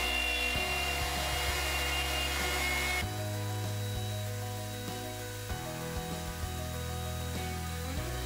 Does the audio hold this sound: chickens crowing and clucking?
no